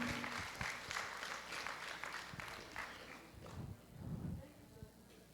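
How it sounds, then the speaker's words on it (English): Applause from a crowd for graduates at a college commencement ceremony, a burst of clapping that swells and fades, heard at a distance alongside talk. "A round of applause to our graduates"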